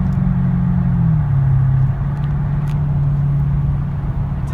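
Cadillac CTS-V wagon engine droning steadily under load while driving, with a low pitch that drops briefly as it shifts from fifth down to fourth gear, loud and close with no talk.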